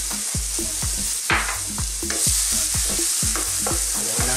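Onion stir-fried in a hot pan for chicken spring roll filling, a busy crackling sizzle with rapid, rhythmic clanks of a spatula against the pan, close and loud, with no talking.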